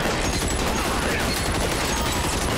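Dense, continuous gunfire from the L.A. Noire video game, a loud sustained fusillade of rapid overlapping shots filling the whole stretch with no pause.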